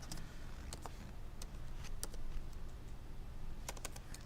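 Quiet, irregular clicks of keys on a computer keyboard, tapped in short bursts with brief pauses against a low room hum, and no voices.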